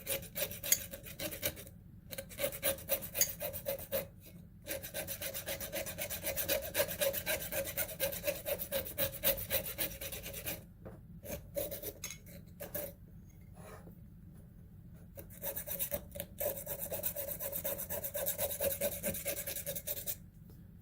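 Metal files rasping against small silver scraps over a cup, a steady back-and-forth rubbing in close repeated strokes with brief pauses, no talking.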